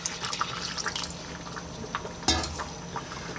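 Water pours steadily into a pot of chicken soup, a continuous close liquid splash and trickle lasting a few seconds with a brief louder slosh near the end.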